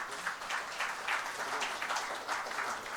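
An audience at a national conference breaks into sustained applause, a steady wash of many hands clapping at once with no voices over it.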